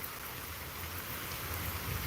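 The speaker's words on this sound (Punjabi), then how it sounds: "ਠਹਿਰਦੀ ਹੋਈ بارش ਹਲਕੀ ਬੂੰਦਾਬਾਂਦੀ ਨਿਰੰਤਰ ਜਾ ਰਹੀ ਏ" Steady light drizzle keeps falling after heavy rain, a soft, even hiss of fine drops with a faint low rumble underneath and no voices.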